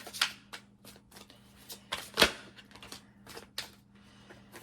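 Tarot Grand Lux cards handled and shuffled up close, with crisp riffling bursts, flicks and slaps in an irregular rhythm, one sharp snap near the middle, and a faint low hum beneath.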